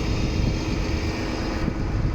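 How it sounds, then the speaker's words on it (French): Wind buffets the microphone in an open field beside farm tractors, a steady, loud, rumbling roar that fills the whole moment without pause. "Je sais pas si vous m'entendez bien avec le vent."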